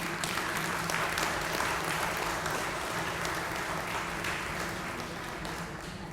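Steady applause fills a hall as an audience welcomes speaker Mary Lou McFetrin at a human rights talk, a sustained even clapping that tapers off slightly at the end.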